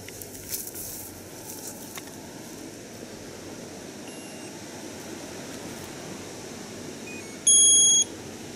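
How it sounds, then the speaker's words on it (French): An XRS fishing bite detector switched on gives a short, sharp electronic beep near the end, with a couple of faint earlier pips over a quiet room hum. "Pour la fonction, il suffit d'allumer le détecteur."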